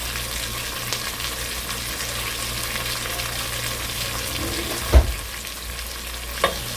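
Tilapia fries in oil with a continuous close sizzle and faint crackle, punctuated by a sharp knock around midway and another softer clatter near the end, with no voices.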